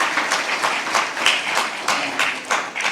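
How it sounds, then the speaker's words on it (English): Audience applause at an investment summit opening ceremony, a steady wash of many hands clapping with no voices over it, continuous and fairly loud throughout. "Let's give applause to IBN for this thing."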